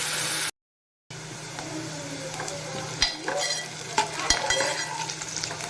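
Onion, garlic and curry leaves fry in a pan with a steady sizzle, broken by a brief silence near the start and then a few louder scrapes and stirs as the mixture is turned; no one speaks.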